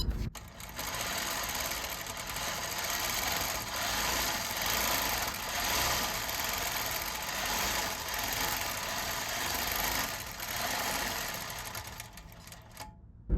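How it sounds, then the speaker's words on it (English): A Juki longarm quilting machine stitches a test run after tension adjustment, a steady, fast, loud mechanical whirr that runs almost unbroken from start to finish with no talking. "And now I'll go ahead and test sew again to see how the new tensions are."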